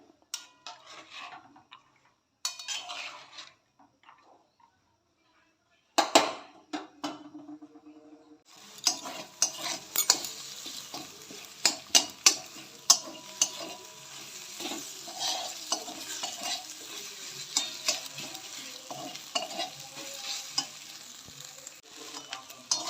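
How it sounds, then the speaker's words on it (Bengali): Pasta boils in a pot with a soft continuous bubbling crackle and scattered light clinks, after a few quiet seconds of faint handling noises at the start. "পাস্তাটাকে সিদ্ধ বসিয়ে দিয়েছি"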